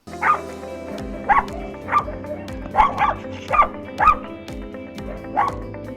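Several dogs bark at a kennel, a run of sharp barks and yips repeating roughly every second at close range, with some whimpering mixed in and no talking.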